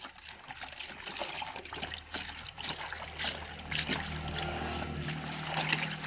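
Soapy water poured slowly into a homemade tobacco pest-spray solution for plants, a soft continuous trickle and splash of liquid, close and fairly quiet, steady from start to finish.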